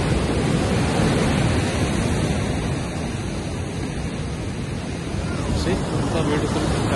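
Surf on a Nusa Penida beach with white sand, a continuous broad wash of waves with some wind, steady and fairly loud throughout.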